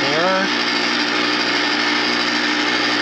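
An ice cream maker churning and freezing chocolate ice cream gives off a steady mechanical motor hum that runs unbroken and fairly loud, with a short rising tone at the start.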